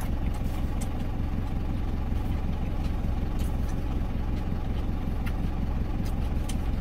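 Parked truck with its engine left idling, a steady close rumble that stays even throughout, with faint clicks and rattles over it and no talking.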